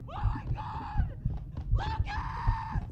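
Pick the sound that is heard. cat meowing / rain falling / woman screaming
woman screaming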